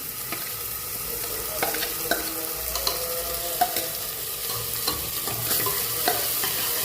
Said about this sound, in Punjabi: ਪਿਆਜ਼ ਤੇ ਲਸਣ ਨੂੰ ਚੰਗੀ ਤਰ੍ਹਾਂ ਭੁੰਨੋ